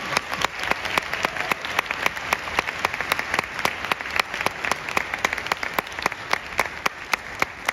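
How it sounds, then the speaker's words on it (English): An audience at a university honor band festival applauds steadily for a guest conductor, the dense clapping continuing throughout with a few louder individual claps standing out near the front. "Let's give him a round of applause."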